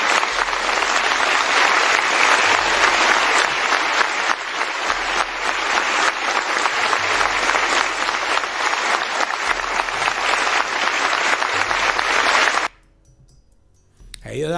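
Sustained applause from an audience at the opening of a police social, sports and cultural center in Venezuela, loud and steady for about twelve seconds before cutting off abruptly, with faint voices mixed in.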